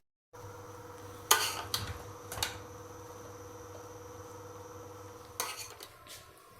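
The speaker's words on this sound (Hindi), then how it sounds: "और अब हम इसे करते हैं डिश आउट।" Potato and pea pulao being dished out of a pot in a home kitchen, with a few sharp metallic clinks and scrapes of a spoon against the pot over a steady background hum.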